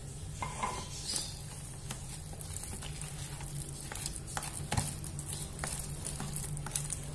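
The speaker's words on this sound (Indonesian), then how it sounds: "Terus saya kasih putih telur." Egg white is stirred into tekwan dough in a bowl, with faint scraping, sticky squelches and scattered clicks of a utensil against the bowl.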